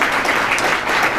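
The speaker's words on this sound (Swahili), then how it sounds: "Ongeza makofi jamani, ongeza makofi mengi mpaka afike hapa tafadhali" An audience claps to welcome a speaker to the stage, a dense, even burst of applause lasting about a second, moderately loud with no voices over it.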